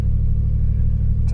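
A Triumph Stag's engine runs at a steady idle just after starting, a loud close low throb with an even pulsing rhythm and no voices.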